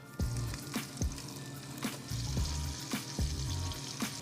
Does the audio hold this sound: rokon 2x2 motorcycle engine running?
no